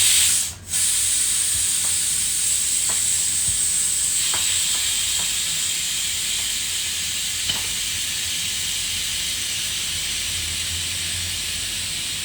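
Steam hisses from a pressure cooker of chole as it is opened, a steady, fairly loud jet of hiss that runs almost unbroken, with only a momentary dip near the start.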